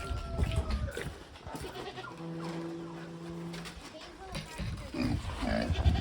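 Goats bleat close by on a farm near a cow, one long wavering cry standing out amid scuffling, background noise and people talking nearby.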